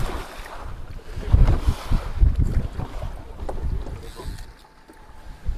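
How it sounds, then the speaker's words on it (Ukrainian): Big waves slosh and slap against a fishing boat hull in irregular surges, with wind buffeting the microphone throughout, off Canada. "Велика хвиля, хоча вітру зовсім не відчувається."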